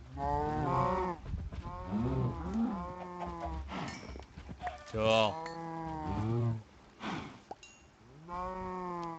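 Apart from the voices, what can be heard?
cows mooing in a video game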